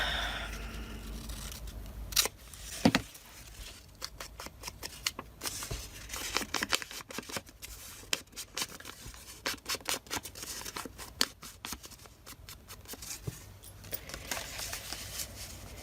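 Scissors cut and paper tears while pages are worked on for a butterfly-themed altered book. Close, crisp snips and rustles come in irregular bursts, with occasional sharper tears and handling noise, without talk.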